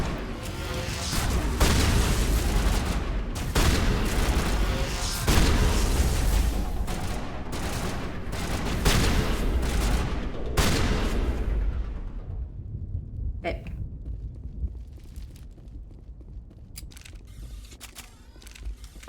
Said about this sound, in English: This assault rifle is shit.